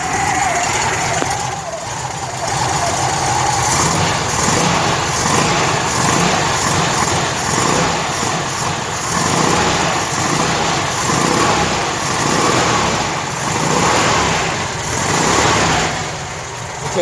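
A cold engine of a 1972 Volkswagen Variant with a 35 mm Solex carburetor runs steadily nearby, a constant loud mechanical rumble with slight wavering, never really rising into a rev.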